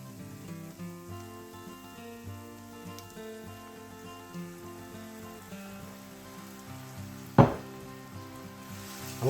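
Balsamic vinegar sizzles and bubbles in a pan with onions for a steak sandwich. A steady soft crackle runs under faint tonal background music, and a sudden louder hiss and clatter comes near the end.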